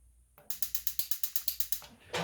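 Blackstone griddle battery igniter clicking, a rapid even series of about a dozen sharp ticks, close and loud against quiet surroundings.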